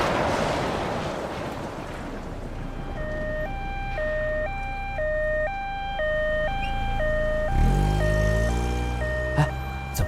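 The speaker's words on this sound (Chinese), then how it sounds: "救护车！" An ambulance siren wails in a two-tone alternating pattern in a Chinese crime drama, loud and steady over a rumbling background, with a deep whoosh near the end.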